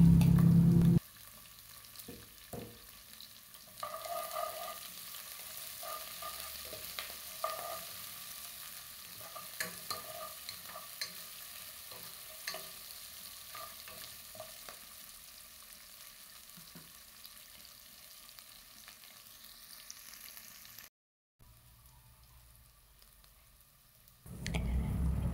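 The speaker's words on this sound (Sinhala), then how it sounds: "ලූණු, කරපිංචා, රම්පේ, අවමිරිස් ටිකත් එකතු කරලා දැන් මේ සේරම තෙලේ හොඳට තෙම්පරාදු වෙන්න දෙනවා." Onion, curry leaves, pandan and fenugreek seeds temper in hot oil in a Sri Lankan kitchen for tempered mushrooms, a steady soft sizzle with occasional stirring clicks, fairly quiet and close, no talk.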